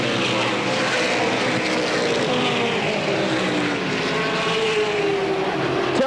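Late model race cars roar around Motordrome Speedway, a dense, continuous engine drone filling the track with a rising whine as the field accelerates, loud and steady throughout.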